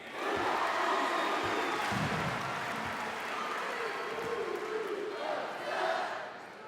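Basketball arena crowd in a college men's game, a dense, loud roar of cheering and shouting from many fans that swells and fades slightly, with a commentator's voice mixed in.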